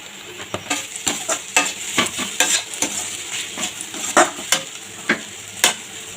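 Snack batter for a cheese cutlet is stirred in a pan, giving repeated sharp scraping clicks of a utensil against the metal at an irregular quick rhythm over a faint sizzle, with no voices.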